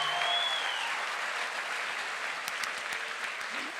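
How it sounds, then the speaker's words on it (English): Audience applauding the judges at a poetry slam competition, steady broadband clapping from a crowd that holds for several seconds, with a few sharper nearby claps toward the end. "Can we just give a round of applause to the judges?"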